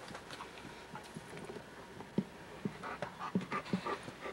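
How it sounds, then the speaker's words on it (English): A dog pants indoors in a house, soft quick breaths at first and then louder, more distinct huffs toward the end, close by and with no voices. "The dog's here, too."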